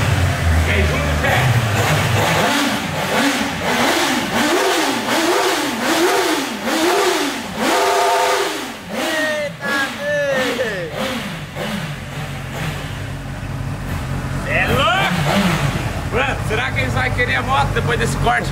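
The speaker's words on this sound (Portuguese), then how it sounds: "vamos esquentar aqui os motores e bora lá!" Motorcycle engine at a dealership revved repeatedly in sharp rising and falling bursts, loud and close, with a busy background and people talking over it.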